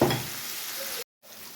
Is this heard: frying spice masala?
yes